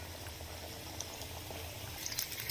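Masala vadas frying in hot oil on a medium flame, a soft, steady bubbling and crackle with a few faint pops near the end, quiet and without talk.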